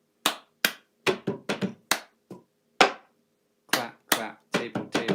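Cup song routine: sharp hand claps and hollow cups tapped and set down on a table in a quick, uneven rhythm of about fifteen crisp, close hits separated by brief silences.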